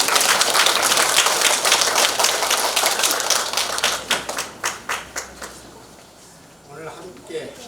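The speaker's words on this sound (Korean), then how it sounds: "큰 박수로 모시겠습니다" Audience applause at a memorial ceremony, a dense burst of clapping that thins into scattered individual claps and fades out, followed by a brief voice.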